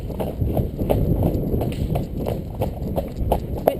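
A horse trots through crispy dry leaves, with regular clip-clop hoofbeats crunching at a steady rhythm, close and clear over a soft rustling background.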